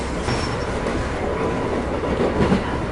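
A subway train runs along the track with a continuous rolling rumble and clickety-clack of wheels over rail joints, a faint thin squeal early on, loud and steady with no voices.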